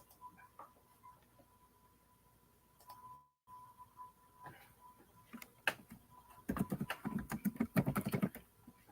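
Keys clatter on a computer keyboard in a quick, uneven burst of clicks near the end. Before that come a few scattered taps over a faint steady hum, close and fairly quiet.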